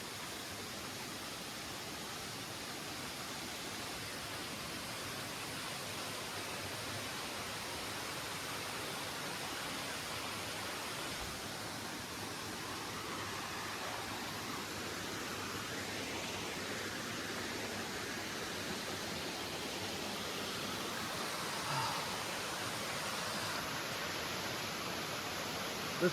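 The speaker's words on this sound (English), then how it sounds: "Thumbs up for the waterfall." A wilderness waterfall pours into a creek in a steady, dense rushing wash that stays even and unbroken throughout, close and fairly loud, with no voices.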